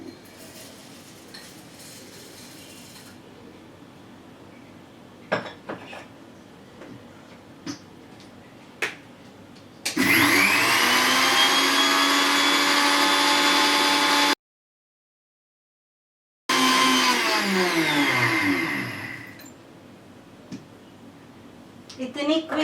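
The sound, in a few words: mixer grinder grinding poha into powder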